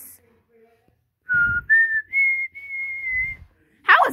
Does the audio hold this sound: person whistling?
yes